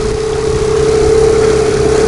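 A new Mikatsu 9.8 outboard motor runs on a boat, with a loud, continuous engine drone and a steady tonal hum throughout, close and alone.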